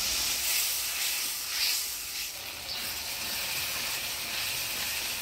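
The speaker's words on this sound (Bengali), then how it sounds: "জল দিয়ে মশলাটা ভালোভাবে কষিয়ে নেব।" A ground spice paste of coriander, cumin, ginger, chili, garlic, turmeric and salt fries with water in a pan, giving a continuous, close, bright sizzling hiss without pause.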